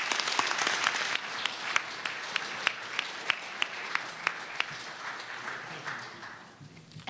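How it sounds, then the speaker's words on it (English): A conference audience applauds a professor at the close of a session, with steady massed clapping, sharp individual claps punctuating it, gradually thinning and fading out toward the end. "I'd like everyone to give another round of applause for Professor Foster"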